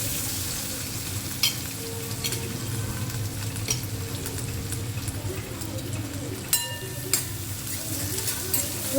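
Onions sizzle steadily in a pan for mango rasam, a continuous low frying hiss with a few sharp clinks of a utensil against the pan.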